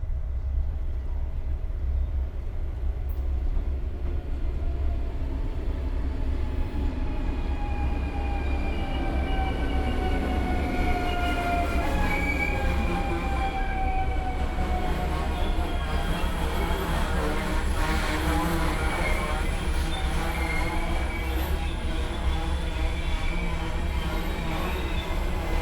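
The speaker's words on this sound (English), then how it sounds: "As the train trembles away from the station, I leave him there." A train rumbles loudly and steadily as it pulls away from a station, wheels squealing in long rising tones over the heavy rolling noise.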